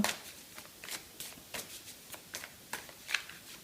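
Tarot cards drawn and handled in a series of crisp papery flicks and snaps at a steady, uneven rhythm, close and moderately quiet, with no voices.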